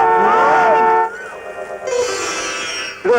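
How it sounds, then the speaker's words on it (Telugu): A loud, close horn sounds a long sustained blast lasting about a second, then a second lower, shriller held blast follows; no talking is heard. "ఇదిగో, హార్న్ కొడుతుంటే వినిపించట్లా?"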